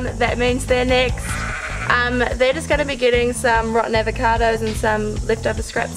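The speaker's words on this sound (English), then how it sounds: "you can probably hear the pigs screaming in the background" Pigs squeal and scream in repeated harsh, high-pitched bursts throughout, loud and close on a farm in New Zealand, while a person talks over them.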